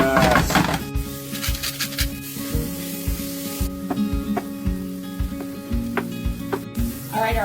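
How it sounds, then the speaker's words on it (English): Onions sautéing in butter in a pan, a steady close sizzle with rhythmic scraping and stirring strokes throughout. "All right, we're gonna start sauteing the onions."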